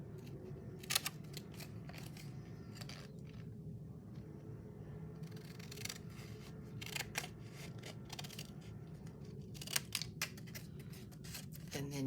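Scissors snip the corners of a scored card for a gift box card holder, with short, faint, irregular clicks and crunches scattered over a quiet background.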